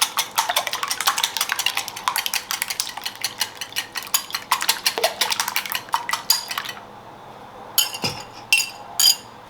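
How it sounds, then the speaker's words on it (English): A small whisk beats eggs lightly in a bowl for a pumpkin spice dump cake, giving a fast run of close metallic clinks against the bowl that stops, followed by a few separate taps. "I'm going to lightly beat those eggs before I put them in. So my little whisk here, just to break them up."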